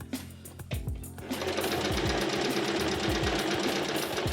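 A sewing machine stitches fabric for a simple tote bag, starting after a brief pause and then running in a steady, fast, close mechanical chatter to the end.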